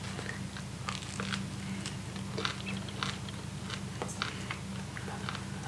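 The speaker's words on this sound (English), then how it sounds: "good crunchy crust" Bites into the crunchy crust of homemade bread, giving a run of close, crisp crackling crunches and chewing over a steady low hum, with no talking.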